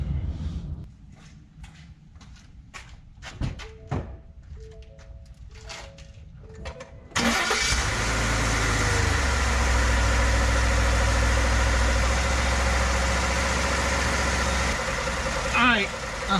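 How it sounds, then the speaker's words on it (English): A Ford F150 truck's 2.7 engine cranks and catches, then settles into a loud, steady idle close by; someone talks with some clicks and knocks before the start. "So I'm gonna go start the truck up."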